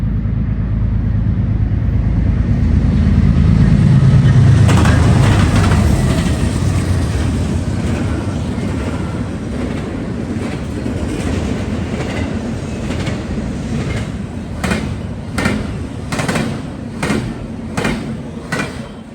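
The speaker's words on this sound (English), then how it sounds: "this next Norfolk Southern manifest with GEVO leading and Dash 9 trailing" A Norfolk Southern manifest freight train passes with a GEVO leading and a Dash 9 trailing, in freezing weather. A loud, steady rumble swells early, then rail cars roll by with rhythmic clickety-clack wheel impacts growing sharper toward the end.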